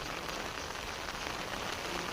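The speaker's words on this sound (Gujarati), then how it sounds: "જોરદાર વરસાદ ચાલુ છે।" Heavy rain pours down steadily, an even, unbroken hiss of drops on surfaces, fairly quiet and with no voices.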